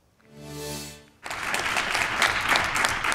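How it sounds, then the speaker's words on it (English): A roomful of people bursts into applause after a unanimous school board vote approving raises for Oldham County teachers, a dense steady clapping that swells and holds, preceded by a brief tonal murmur. "Applause filled the room after a unanimous vote to increase Oldham County teachers' salaries."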